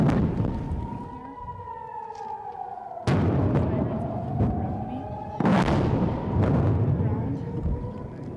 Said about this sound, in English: The town has been bombarded like this for a year